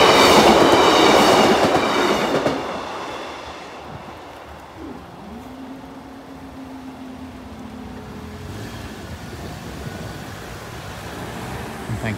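A train, locomotive 156405, rumbles past a level crossing loudly at first, its clatter fading as it moves away, leaving a lingering low mechanical drone and distant rail noise.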